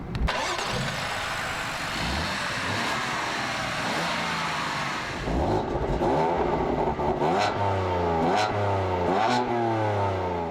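A 2015 BMW M4 inline-six engine starts, idles briefly, then revs hard several times, climbing and dropping in pitch, loud and close with no voices.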